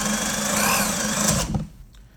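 A loud electric drill whines steadily as it bores through wood, then abruptly winds down and stops, leaving near silence.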